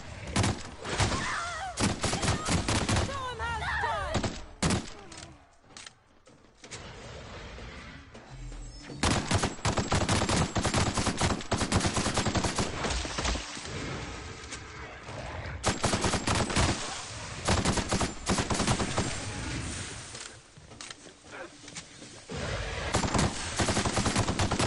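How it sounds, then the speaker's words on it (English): Automatic assault rifle fire from The Outer Worlds, sustained loud bursts in rapid rhythm with short lulls, dense crackling shots and thuds of impacts filling most of the stretch. "Go ahead and pull the old assault rifle out."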